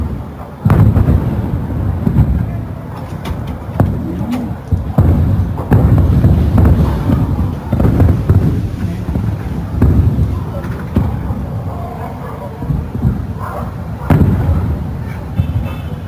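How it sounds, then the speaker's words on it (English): Bombardment in a war video game, heard as repeated heavy booming blasts and thuds at an irregular pace over a dense, loud bed of battle noise; there is no clear speech. "Hay un bombardeo"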